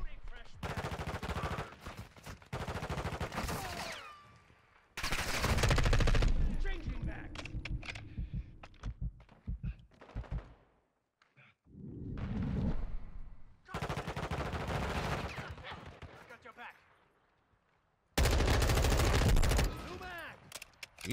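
Rapid automatic gunfire bursts from weapons in Call of Duty: Modern Warfare II beta gameplay, loud and dense in several long volleys separated by brief gaps, with a player talking intermittently between them.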